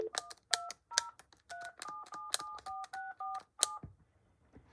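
Telephone keypad dialing on a home phone system, a quick run of about a dozen distinct DTMF beeps in uneven rhythm, clear and close, then quiet.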